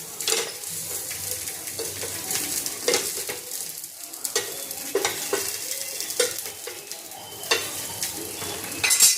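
Alu vadi, colocasia leaf rolls, pan-roasted on every side: a continuous crackling sizzle punctuated by frequent sharp scrapes and taps of a utensil against the pan, close and fairly loud, without speech.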